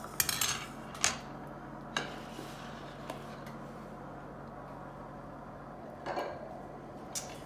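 Boiled potatoes mashed with a potato masher in a pot, heard as a few sharp metallic clanks and thumps against the pot spaced a second or so apart, with a faint squelch between them.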